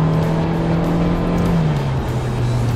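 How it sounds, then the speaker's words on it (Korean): A Hyundai Avante's engine with a CVT drones loudly at high revs in automatic mode, a steady strained hum that dips slightly in pitch toward the end. "힘을 내기 위해서 엔진 RPM을 정말 많이 써야 됩니다."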